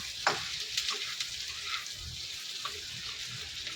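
Onions frying in a pan for chilli chicken, a soft sizzle with scattered light scrapes and clicks of stirring, fairly quiet and close.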